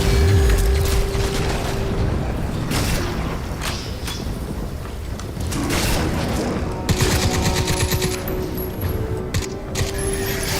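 Rapid gunfire with heavy recoil in the shooter video game Crysis 3, a dense, continuous stream of loud synthetic shots and mechanical clatter over a busy game soundtrack, with no talk.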